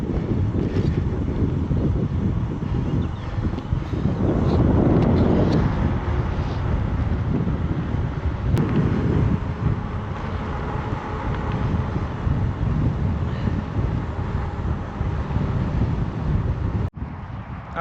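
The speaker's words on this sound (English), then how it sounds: "Pretty nice day out, a little blustery though" Blustery wind buffets the microphone outdoors on a suburban greenway, a steady rumbling roar with gusts that swell and ease throughout, no voices present.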